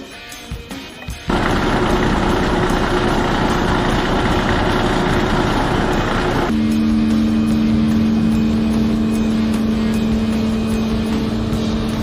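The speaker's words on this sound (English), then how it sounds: "There's something special about seeing a 1972 Kenworth still grinding through the woods." A 1972 Kenworth truck with a Big Cam Cummins engine runs loud and steady, a deep continuous diesel drone that shifts to a lower, more tonal hum partway through, with no talking.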